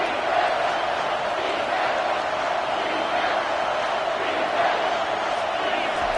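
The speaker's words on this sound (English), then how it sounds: "This crowd knows when to bring it." Football stadium crowd at a Michigan game roars steadily and loudly throughout, a dense sustained wash of cheering and shouting with no single voice standing out.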